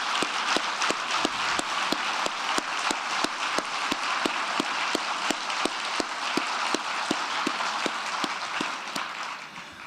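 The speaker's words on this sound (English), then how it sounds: "Let's give them a big round of applause." An audience applauds a national champion debate team at an evening discussion event, with a steady wash of clapping and a few sharp, evenly spaced claps cutting through, fading slightly at the end.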